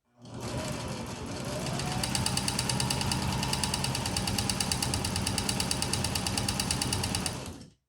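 A sewing machine stitches a skirt seam in one continuous run of close, rapid mechanical chatter lasting about seven seconds, with no voices.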